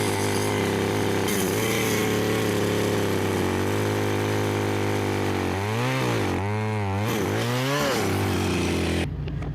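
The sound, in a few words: chainsaw cutting a slot into a tree stump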